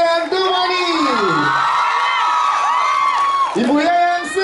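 A crowd at a film premiere for the horror drama Temurun shrieks, whoops and cheers loudly for the cast, with rising and falling high-pitched yells and a steady clamour, and a voice is mixed into the noise.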